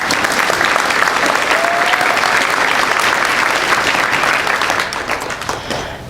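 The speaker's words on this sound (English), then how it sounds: "Please give Jenny lots of business and a round of applause." An audience at a Distinguished Young Women scholarship program applauds a volunteer photographer, a loud, dense clapping that holds steady before thinning and fading toward the end.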